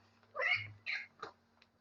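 A cat meows three times in quick succession, with the first cry longest and loudest and the last two shorter and fainter, heard close and alone over a low steady hum.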